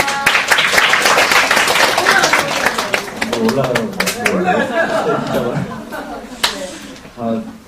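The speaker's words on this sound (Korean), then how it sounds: "서비공대 정말 박수로 안녕합시다" Audience applause at an exchange-student seminar, a dense round of clapping that runs strong for several seconds, then thins into scattered claps and chatter with some laughter as voices take over.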